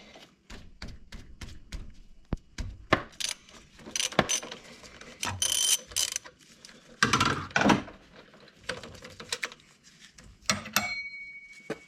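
A ratchet works on a car's motor mount during an overheating repair: irregular clicks, metallic clanks and scraping bursts come close by in uneven clusters, with no talking.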